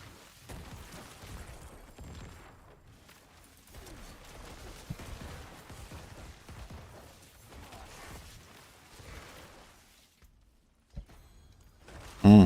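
Corpse explosions in the Diablo 4 video game, a steady clutter of soft pops and bursts under game noise, ending in one louder boom.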